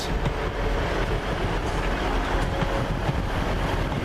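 A Class 158 diesel multiple unit rolls past on the line, a steady rumble with faint rail clatter, close and continuous.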